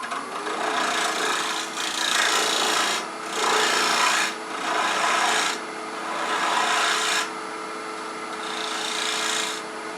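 A rasping tool scrapes back and forth across wood in several long, even strokes, close and loud, with brief pauses between passes.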